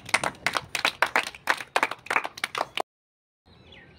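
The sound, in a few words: children clapping for the game winner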